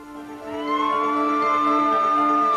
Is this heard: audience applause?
no